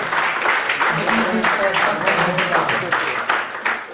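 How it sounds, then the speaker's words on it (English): Audience at a seminar workshop applauding, a dense continuous burst of clapping from a sizeable crowd that holds steady and fades slightly at the end. "I request the audience to give them a big round of applause"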